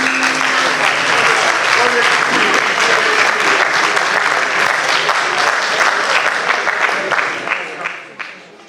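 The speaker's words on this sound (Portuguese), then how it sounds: "Uma salva de palmas" An audience at a pedagogical conference session applauds for moderators, producing dense, sustained clapping that stays loud for about seven seconds before tapering off at the end.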